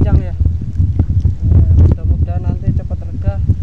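Strong wind and a rainstorm sweeping over the Kedung Ombo reservoir, a steady loud roar with gusting buffets on the microphone; voices can be heard talking through the storm.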